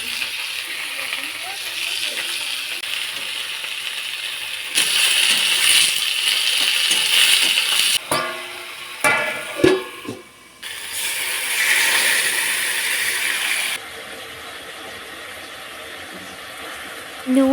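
Garam masala spices are crushed in a small grinder, a loud whirring, rattling grind that cuts in and out in bursts with clattering pauses and handling noise between runs.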